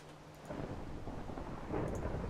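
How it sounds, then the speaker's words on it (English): Thunder in the Minecraft video game rolls in as a low, steady rumble with rain hiss, swelling louder partway through and holding at a loud level. "Hello, Thunder."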